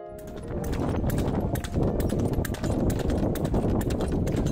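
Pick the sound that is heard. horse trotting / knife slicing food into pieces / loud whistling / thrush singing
horse trotting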